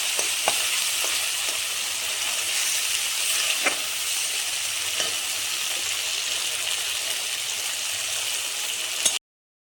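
Potatoes frying in hot oil with spices for a potato and soybean curry, a loud continuous sizzle with occasional spoon stirs and scrapes, no talking.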